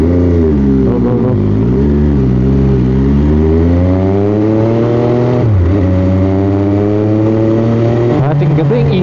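An MV Agusta F3 sport motorcycle engine revs loudly and steadily on a night ride, its pitch rising and falling through gear changes, close and continuous for the whole stretch.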